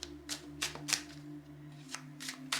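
Tarot cards shuffled by hand in a quiet room, giving a series of crisp riffling bursts roughly every third of a second over a faint steady hum, with no voice.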